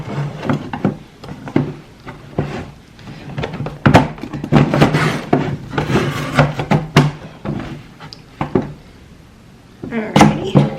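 A lid is fitted onto a Toxirium mini reptile enclosure, producing repeated close plastic and wooden knocks, rubs and thunks in irregular bursts.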